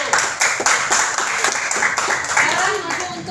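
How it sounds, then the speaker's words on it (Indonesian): Students in a classroom clap for a presenting group. The applause is uneven and fairly loud, with rhythmic bursts of clapping, and voices mix in over the final second. "Kita berikan tepuk tangan untuk kelompok 1."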